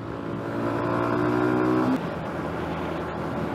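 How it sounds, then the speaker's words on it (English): A Yamaha YBR 125 motorcycle with a freshly tensioned chain rides along, its engine droning steadily and pulling up in pitch before easing off as the revs drop, with no talking. "My bike's been really fun to ride at the minute because I've just tensioned up the chain."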